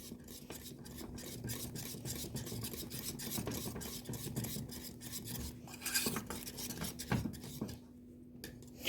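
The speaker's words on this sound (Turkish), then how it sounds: "iyice karıştırıyorum" A spoon scrapes and stirs a thick pudding mixture for a Malaga tart in a pot, a close, rhythmic rubbing and clinking that keeps on without a break, with a faint steady hum behind it.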